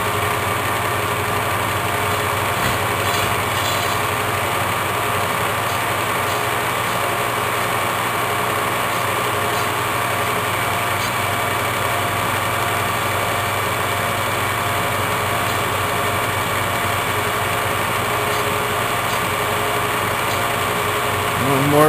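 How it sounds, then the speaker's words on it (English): A steady, continuous drilling or machining whine holds unchanged for about twenty seconds while a hinge is bored for a swivel-back chair, with no talking. "back to drilling."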